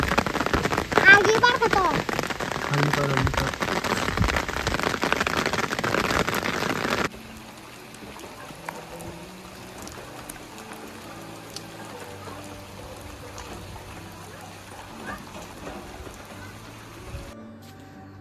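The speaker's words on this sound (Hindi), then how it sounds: "भयंकर बारिश, भयंकर बारिश, डरावनी बारिश जिसे बोलते हैं" Heavy rain roars as dense, steady hiss for about seven seconds while a voice speaks briefly, then the downpour drops to a quieter, sparser patter that continues to the end.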